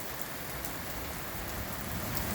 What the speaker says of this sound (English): Yeah, it's pouring bad,